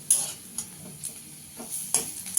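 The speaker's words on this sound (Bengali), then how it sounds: "রসুনটাকে একটু হালকা ভেজে নেব" Garlic being lightly fried in oil for a dal tarka, a soft sizzle with short scraping stirs of a spoon in the pan at intervals, fairly quiet and close.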